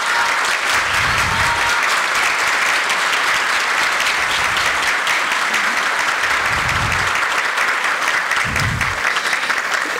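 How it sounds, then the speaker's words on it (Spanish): An audience at a human rights report presentation in Guatemala applauds, a dense, sustained roar of clapping that stays loud and even for about ten seconds, with occasional low thumps underneath. "Un aplauso para Abelino, por favor."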